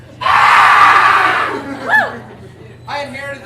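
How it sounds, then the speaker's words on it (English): A man lets out a loud, sustained scream lasting over a second in a crowded pub during a comedy set, followed by shorter vocal yelps and bursts of voice. "I inherited that scream from my mom."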